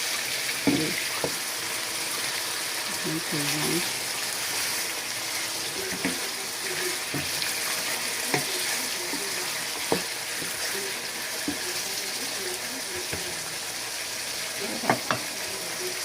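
Beef and plantains for kondré de boeuf simmer in a pot with a steady, soft sizzling hiss, broken by a few faint clinks and stirring knocks. No one speaks.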